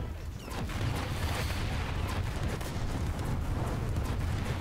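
A tank cannon shot lands on an enemy tank in the War Thunder game, heard as a heavy roaring boom followed by a continuous loud rumble that fills the whole moment.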